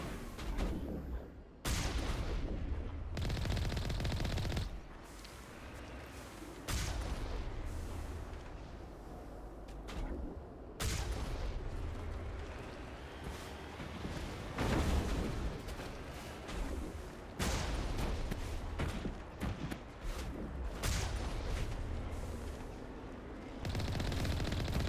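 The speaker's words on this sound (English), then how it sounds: "I'm just gonna get Mako and shoot them" Heavy weapon fire from the Mako combat vehicle in Mass Effect, loud bursts of cannon and gun blasts with rumbling booms and short pauses between volleys, close and sustained over a battle.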